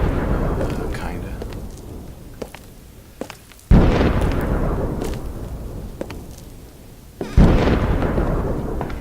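Heavy rolling thunder in the video game Perception, with two sudden loud cracks that each decay into long rumbling washes, over a constant storm background.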